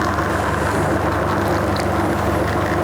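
An espresso machine pulls a shot, its pump giving a loud, steady droning hum close by with no pause and no talking.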